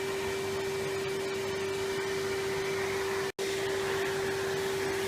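A Henry Hoover vacuum cleaner runs with a steady, loud motor whine and airy suction roar throughout, cutting out for a split second before resuming, with no talking.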